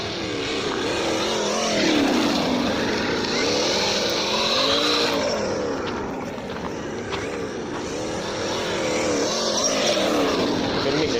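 A Losi Baja Rey RC truck runs over a bump outdoors, its electric motor whining and rising and falling in pitch as it repeatedly speeds up and slows, with tires scrabbling, all fairly loud and close with no talking.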